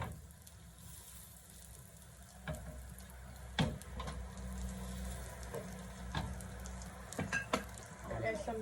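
Potato cutlets frying in hot oil give a steady close sizzle throughout, with occasional louder pops and utensil clicks over the crackling bed.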